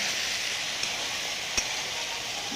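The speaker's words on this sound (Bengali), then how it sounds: "এরপর একটু গরম জল দিয়ে কষাচ্ছি, এটা আরো স্বাদটা ভালো হয়।" Spices frying in a pan sizzle steadily after a splash of hot water, a dense, even hiss with a couple of faint clicks, close and continuous with no voices.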